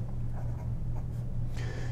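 A fountain pen with a soft medium nib writes on very smooth paper, giving a close, continuous scratchy glide with light strokes and pen movements.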